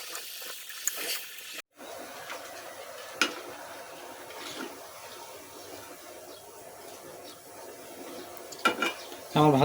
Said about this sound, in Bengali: আমি ভালোভাবে ভেজে নিচ্ছি উল্টে পাল্টিয়ে।